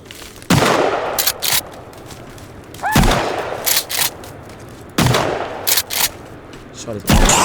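Gunfire in the video game Sons Of The Forest, four sharp loud shots spaced about two seconds apart, each with a ringing tail, and faint game sounds in between.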